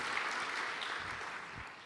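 A church congregation applauds during a service, a brief, steady wash of many hands clapping that fades slightly toward the end.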